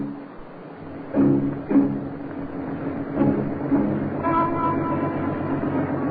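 A train passes as a radio drama sound effect, a steady rumbling rail roll with rhythmic clacks and a horn-like tone toward the end, heard alone with no talk.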